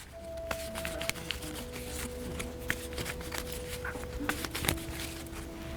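Crisp riffling of a deck of cards being shuffled, with repeated quick flutters and taps up close, alongside a faint steady hum.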